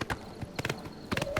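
A paint horse gallops in the video game Oblivion Remastered, its hooves giving quick clusters of muffled clopping beats over a steady background hum, brief and close.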